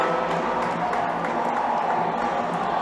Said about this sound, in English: And you heard this crowd.